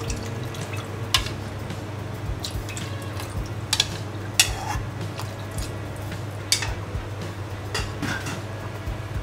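Thai curry with coconut milk stirred in a pot on the stove: scattered clinks and scrapes of a utensil against metal over a steady low hum, with wet bubbling and dripping textures throughout.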